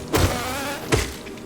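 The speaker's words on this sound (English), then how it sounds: "There was one of those warrior bees." Warrior bee enemy in the video game Hollow Knight gives off a steady insect-like buzzing drone, with two sharper swells of sound near the start and middle; no talking.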